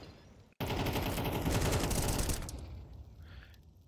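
Grenades going off in the Counter-Strike video game, a sudden loud burst of rapid crackling blasts that lasts about two seconds, then fades into quieter rumbling debris.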